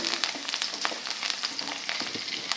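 Bitter gourd and carrot sautéed in a pan for a pickle: a close, steady sizzle and frying crackle with scattered sharp pops and stirring scrapes, without voices.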